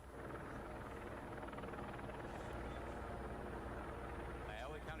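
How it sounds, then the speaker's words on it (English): A sheriff's helicopter circles overhead, droning steadily with a continuous rotor rumble, loud and unbroken across the whole stretch. "Sheriff's helicopter circling forward."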